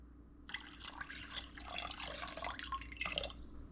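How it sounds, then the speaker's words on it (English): Water poured from a tap or cup into a pot of rice during home cooking of red beans and rice, a steady trickling and dripping splash lasting a few seconds, close and fairly quiet over low background hum. "I'm going to add just a pinch more water."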